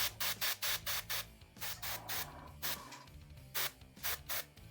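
Paint being airbrushed onto the spots of a miniature figure, with rapid repeated short hissing spray bursts in tight groups, close by and soft over a low steady background hum.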